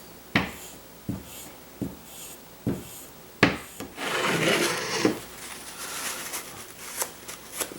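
The flat back of a steel chisel is rubbed on a sharpening mechanism set over a table edge: several evenly spaced scraping strokes give way to continuous gritty rubbing, close and fairly loud.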